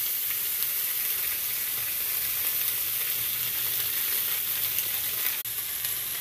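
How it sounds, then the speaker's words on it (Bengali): Ginger and green chili paste fries in a pan with a loud, dense, continuous sizzle that stays steady and close throughout, broken only by a brief dip near the end, with no talking. "এই যে আদা কাঁচা লঙ্কা পেস্ট করে রেখেছি, মশলাটা দিয়ে দিলাম। দিয়ে ভালো করে ভেজে নেব।"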